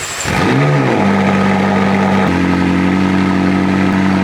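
A McLaren sports car engine revs hard, then settles into a loud, steady rumbling idle close by, with a deep throaty tone.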